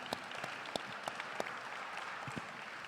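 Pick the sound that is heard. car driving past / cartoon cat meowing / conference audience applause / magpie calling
conference audience applause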